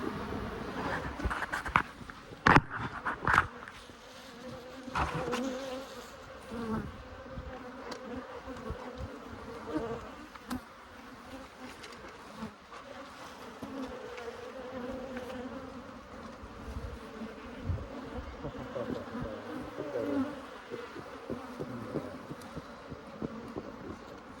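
Honeybees hum and buzz steadily in their hive frames during an inspection before spring, a close, continuous drone with scattered light knocks and handling sounds.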